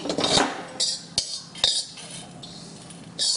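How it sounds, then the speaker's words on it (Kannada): Roasted dried coconut is scraped from a pan onto a plate: a handful of sharp metallic scrapes and clinks, close and distinct, with short quiet gaps between them. "ಈಗ ಇದನ್ನು ತೆಗೆದ್ಬಿಡೋಣ ಒಂದು ತಟ್ಟೆಗೆ"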